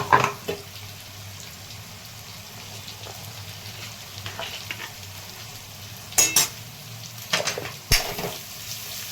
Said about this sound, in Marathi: हे पण तेलामध्ये परतून घ्यायचं। हळद, छान परतून घ्यायचं हळदीमध्ये पण वांग।